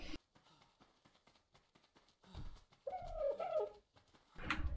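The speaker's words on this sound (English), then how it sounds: "That's why I hate those birds." Birds in the game Ark call and coo in short bursts, with a louder warbling cry midway and scattered rustling and tapping between, fairly faint overall.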